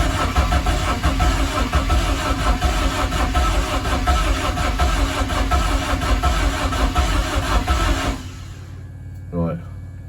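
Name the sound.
BMW M44 engine running rough in E30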